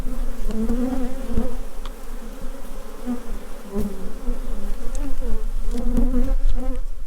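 Steady, loud buzzing of many honey bees at a hive close by, a continuous droning hum with no talking.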